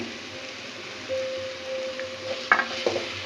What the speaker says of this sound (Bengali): এবারের সাথে চিংড়িগুলো দিয়ে দিচ্ছি মশলাটা কষানো হয়ে গেছে